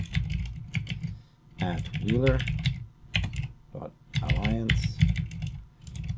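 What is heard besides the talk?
typing an SSH command on a computer keyboard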